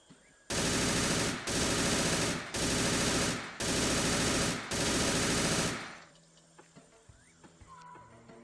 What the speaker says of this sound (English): I'm just shooting at where I think I see tracers